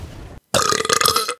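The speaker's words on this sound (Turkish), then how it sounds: "Sarı kola içtim de bayağı geğirttiriyor" A single long, loud burp after drinking yellow cola, close to the mic and lasting almost a second, with a low hum and faint sound before it and no talking.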